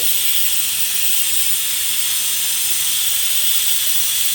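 A pressure cooker letting off steam, a continuous loud, even hiss lasting several seconds with no breaks.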